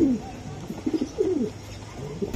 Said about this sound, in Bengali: পেয়ার কবুতর অনেক সুন্দর,